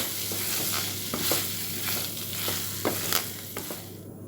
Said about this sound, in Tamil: பன்னீர் சேர்த்து நல்லா அந்த மசாலாவோட மிக்ஸ் பண்ணிக்கலாம்